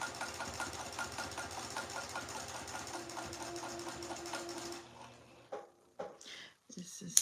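A sewing machine runs steadily, stitching fabric with a 3.5 mm stitch length for a hanging dish towel topper. The rapid even chatter lasts about five seconds, then stops, leaving a few faint handling clicks and taps.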